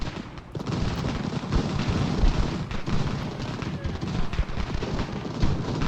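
Artillery and musket fire in the Revolutionary War strategy game Ultimate General: Revolution at the Battle of Trois-Rivieres: a dense, continuous roar of distant volleys and booms with no clear gaps.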